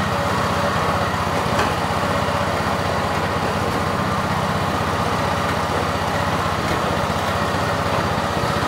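A homemade pomelo washing machine, built on a Philippine farm and run with plain water, keeps up a steady, loud mechanical drone with a rapid engine-like rattle that never lets up.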